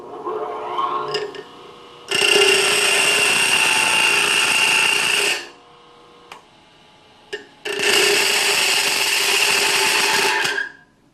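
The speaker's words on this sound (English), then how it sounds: "the big no-no with grinders is grinding aluminum" Bench grinder grinding aluminum on a stone wheel in a machine shop, two loud sustained harsh grinding passes of about three seconds each, separated by a quiet pause with a few clicks.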